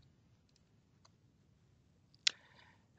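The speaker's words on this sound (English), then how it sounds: "We can either press C on the keyboard or create." A single sharp click of a key pressed on a computer keyboard while working in Jira software, close and brief amid a quiet room with a few faint ticks before it.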